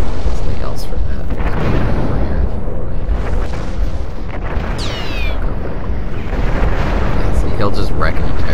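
Long-range artillery in the Planetary Annihilation strategy game fires continuously, a dense rumbling barrage of booms and explosions with a few brief higher whistling streaks, loud and sustained throughout.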